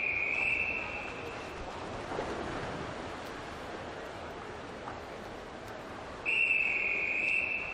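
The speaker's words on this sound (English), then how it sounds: "So whistle going for heat 2." Starting whistle for a heat at a national short course swimming championship, two shrill sustained blasts, one at the start and one near the end, sounding over a constant roar of an indoor pool crowd.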